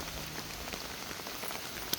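Steady rain pattering on the ground during an outdoor walk with several dogs on a rainy day, a continuous even hiss of drops with a few sharper taps, no talk.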